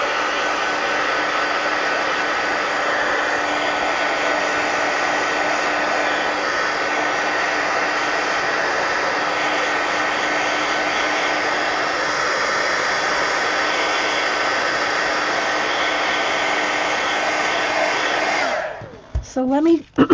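A handheld dryer blowing on freshly varnished mixed media art cards, a loud steady whooshing whine held close for most of the clip before it cuts off with a few clunks at the end.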